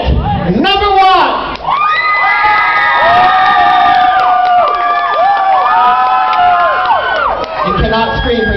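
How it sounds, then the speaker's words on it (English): A crowd at a costume contest claps, cheers and shouts loudly, with children's high whoops and screams rising over sustained applause for several seconds. "clap for the one you like the best and you think put the most into the concept of their costume"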